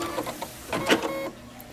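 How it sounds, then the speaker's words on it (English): An embroidery machine stitches a fabric placement line, giving a brief close mechanical whir with rapid needle pulses that rise and then cut off. "So I'm going to stitch that."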